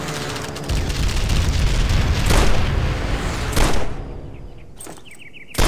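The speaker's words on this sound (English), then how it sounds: "Shoot the helmets off the scarecrow." Rifle shots ring out in the World War II shooter Call of Duty: World at War (2008), fired at helmets on a scarecrow during target practice: a few sharp, booming reports, each with a fading echo over rumbling background noise.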